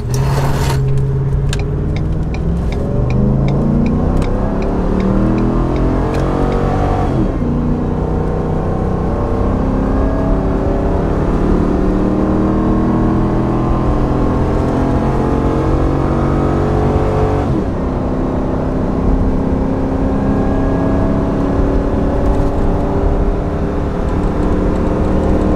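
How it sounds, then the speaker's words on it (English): Ford F250 with the 6.2L gas engine, high mileage, launching from a standstill while towing a trailer up a grade: a loud, sustained engine roar climbing in pitch through several gear shifts, heard from inside the cab. "we're gonna do a zero launch here to see how well this truck can kind of get up to speed from the dig"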